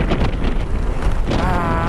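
Wind blows hard across an outdoor microphone during a delivery rider's workday, a steady, loud, rushing roar that fills the whole clip with no clear pauses.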